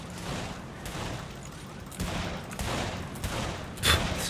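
Rapid bursts of gunfire in the video game Saints Row The Third Remastered, with several louder volleys and a sharp blast near the end over a steady noisy background.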